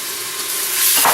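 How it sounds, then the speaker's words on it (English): Chopped onions hitting hot olive oil in a pan give a bright, loud hiss of sizzling that builds steadily over a second, close up, with no voices. "That's the noise we're looking for, the sizzling."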